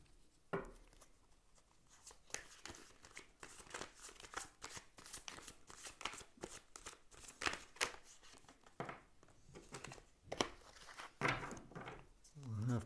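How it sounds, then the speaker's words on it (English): Tarot cards being shuffled close up, a steady run of quick riffling and flicking bursts that repeat through the clip, with brief pauses between shuffles. "I'm just going to do another pre-shuffle."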